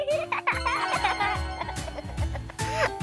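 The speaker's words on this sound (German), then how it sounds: "Katja spielt mit dem Küken." A toy chick in a doll kindergarten play set cheeps in quick, high chirpy bursts, repeated several times up close, with bright electronic tones and no speech.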